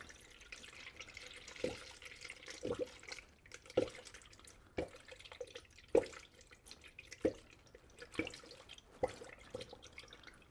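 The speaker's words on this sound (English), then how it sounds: "Got some air bubbles, which is good. Get those air bubbles out." Antifreeze coolant gurgling through a funnel into the radiator of a 2017 Lexus LX 570, with air bubbles popping up in a steady series of distinct glugs and drips, close and fairly quiet, with no talking.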